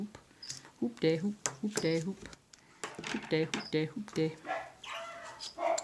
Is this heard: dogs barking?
yes